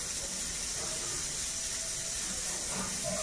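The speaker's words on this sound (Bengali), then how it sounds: "দেখো চাল ধুচ্ছি" Rice being rinsed by hand in water in a home kitchen, a steady wet swishing and splashing under a constant hiss from a pressure cooker steaming nearby, with a few faint clinks.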